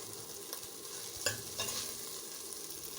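A steady, soft sizzle of onions boiling in a pot for a chicken stew, with a few faint clinks and scrapes of stirring.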